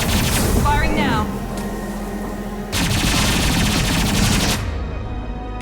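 Dense rapid gunfire from Mass Effect 2 on PC, loud bursts of automatic fire in two long stretches with a brief lull between, close and continuous, with a voice briefly heard over the opening burst.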